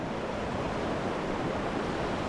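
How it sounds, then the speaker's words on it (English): A river in July runs past in a broad, steady rushing roar, close and continuous with no voices. "that's the river."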